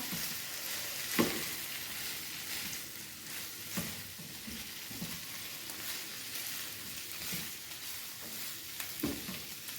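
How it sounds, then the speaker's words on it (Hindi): Chopped vegetables and chicken are stirred together in a hot pan, giving a continuous soft sizzle broken by regular scraping strokes of a spoon every second or two. "और अब मैं वेजिटेबल्स को मिक्स कर लेती हूँ चिकन के साथ"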